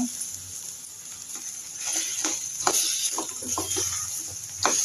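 Bitter gourd frying in a pan, a steady hiss of oil with repeated scraping and stirring strokes, moderately close and without talk.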